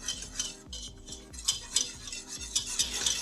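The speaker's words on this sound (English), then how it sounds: "add in half a cup of all-purpose flour and stir that in, and we're just making a roux" A spoon stirs flour into melted butter for a roux in a pan, giving a quiet, rhythmic series of scraping strokes roughly twice a second, close and without talk.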